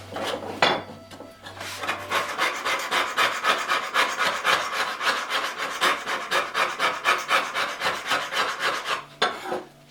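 The cap iron of an old Union transitional plane is scraped in steady rapid rasping strokes, close and fairly loud, running continuously for several seconds before stopping.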